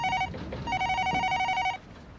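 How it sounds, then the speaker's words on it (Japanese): Telephone bell ringing inside a snowbound inn during a blizzard, a drama CD effect: two bursts of a steady electronic trill, a short one and then a longer one, loud and close with no voices over it. "あらら、電話。"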